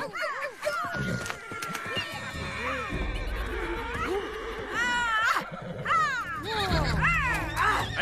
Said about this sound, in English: You're scaring the horses!